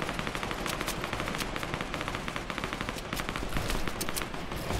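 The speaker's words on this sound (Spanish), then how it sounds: "¿Quién está disparando?" Rapid gunfire in a Fortnite competitive match: dense bursts of automatic shots and scattered single cracks, loud and continuous throughout, with no talk over it.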